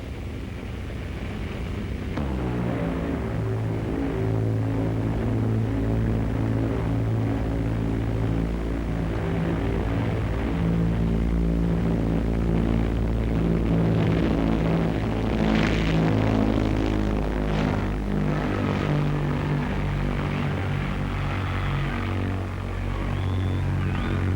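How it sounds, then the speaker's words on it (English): The Bristol Brabazon, a 130-ton, 100-seat airliner, takes off at the Farnborough airshow, its engines giving a steady, droning roar with shifting tones that swells slightly midway. "When 130 tons of aircraft takes off, it makes a suitable subject for a close-up."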